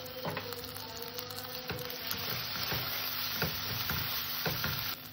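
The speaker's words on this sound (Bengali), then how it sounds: "এবার এখানে আমি দিয়ে দেবো শুকনো খোলায় ভেজে রাখা যে মশলাটা আমি বেটে নিয়ে এসেছি" Ground spice paste sizzles in a pan with sautéed ginger and garlic for a giant freshwater prawn bhuna, a steady, fairly quiet frying hiss broken by repeated rhythmic scrapes of stirring.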